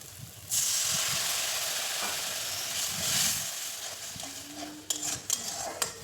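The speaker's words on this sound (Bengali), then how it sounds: "জল দিয়ে মশলাকে কিন্তু ভালোভাবে ফুটতে দেব" Spice masala seasoned with Kashmiri chili powder bubbling and hissing in a pan after water is added, a steady loud sizzling steam that starts abruptly and continues, with a few clinks near the end.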